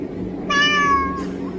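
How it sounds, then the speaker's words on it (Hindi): A single cat meow, clear and fairly close, with a rising-then-falling tonal cry over a low background hum. No one speaks. "MEOW, इसका मतलब क्या होगा?"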